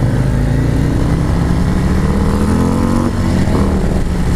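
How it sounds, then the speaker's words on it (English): A 2019 Harley Road Glide CVO 117 or Indian Chieftain 116 touring motorcycle is revved hard in first gear against its rev limiter, a loud, steady engine roar with rising pitch throughout. "I keep hitting the rev limiter in first."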